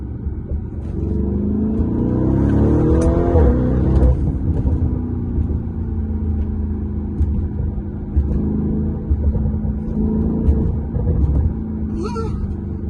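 A Lamborghini Urus 650-horsepower SUV engine rumbles and revs on the road, its pitch climbing and dropping as it shifts through gears, with a voice talking over it.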